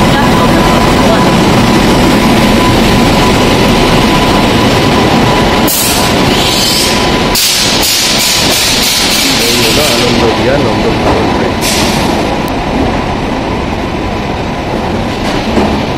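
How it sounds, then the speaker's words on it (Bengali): Nandankanan Express train (No. 12815, Pune to Ahmedabad) pulling into platform 1 at a station: a loud, steady rumble of rail cars with bursts of squealing brakes and wheel clatter, voices heard over it. "Train number 12815 Nandankanan Express from Pune to Ahmedabad is arriving on platform number 1."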